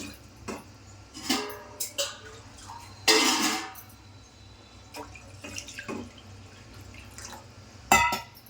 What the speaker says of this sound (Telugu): ఇందులో నీళ్ళు వేయాలి